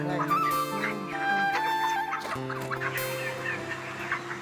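A forty-day-old chicken clucks in short bursts close by, with other fowl sounds and some background noise throughout.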